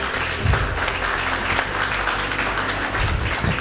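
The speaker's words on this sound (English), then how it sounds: "give yourself a round of applause" A crowd at a cheque handover ceremony claps steadily and warmly, a dense, sustained round of applause from many people at fairly even loudness.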